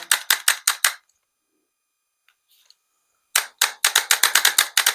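An AR-15 rifle fitted with a digital trigger fires in semi-automatic mode: a quick string of five loud sharp shots, a pause with faint clicks, then a rapid burst of about eleven more close shots.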